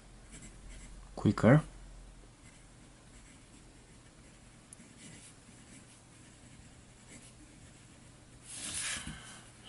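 A fine writing pen scratches across thin 52-gram ivory Tomoe River paper, a soft continuous faint scratching with a couple of louder strokes, under occasional speech.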